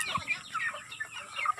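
Several chickens cluck on a small poultry farm, a close, busy stream of overlapping short clucks and squawks with no talking.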